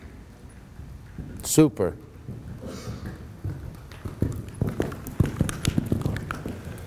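Horse cantering in an arena during a riding clinic, with a run of hoofbeats through the second half that grow louder and more rhythmic, beneath a trainer's voice and a brief shout.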